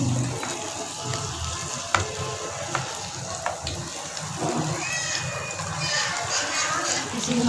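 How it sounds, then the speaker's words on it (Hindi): Chicken pieces shallow frying in oil in a kadhai for restaurant-style chicken Manchurian, a steady sizzle and crackle running throughout with small pops, close and fairly loud. "हम इसे शैलो फ्राई कर रहे हैं"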